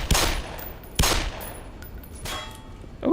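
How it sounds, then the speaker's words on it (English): Gunfire in Black Mesa: a few separate, sharp shots spaced about a second apart, loud and close at first, then fainter, with no talking. "Are we being shot at from the right-hand side?"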